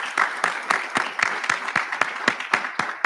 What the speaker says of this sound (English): Dr. Anker's remarks deserve another round of applause